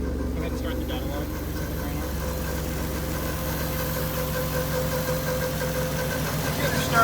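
A turbocharged 3.7-liter V6 Ford Mustang engine idles steadily as it warms up, a continuous low rumble with a faint ticking texture, close and constant throughout with no break.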